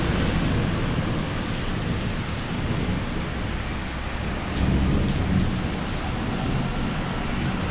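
Heavy summer storm in Alcudia, Majorca: steady, dense rain pours down close by while thunder rumbles low throughout.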